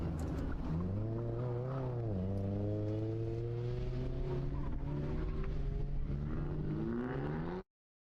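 A 2019 Mazda Miata runs an autocross course, its engine holding a steady, close, loud note with rising and falling pitch as it shifts and revs, dipping briefly near two seconds before climbing again, then cutting off abruptly.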